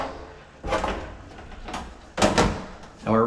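A few clattering thumps of a small dryer door being shut, with brief bursts of noise and a final latch-like knock, close by.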